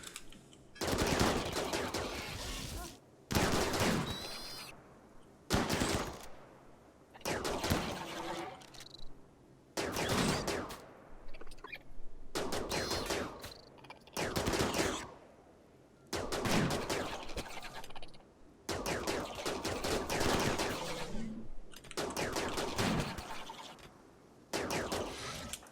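Bursts of gunfire in the video game Rimworld, loud rattling volleys repeating in clusters with short pauses between, a voice speaking faintly at times.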